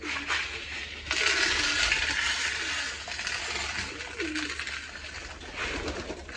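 Paired domestic pigeons coo in low, repeated rolling calls during mating, fairly close, over a constant hiss of background noise.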